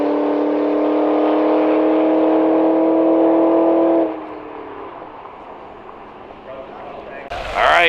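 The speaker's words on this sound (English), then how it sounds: "The big bad Mustang GT against the 2-liter turboed Honda Accord." Drag race at a dragway between a Mustang GT and a 2-liter turbocharged Honda Accord: a loud sustained engine drone for about four seconds that drops off, then a quieter stretch, with a burst of noise near the end and talk over it.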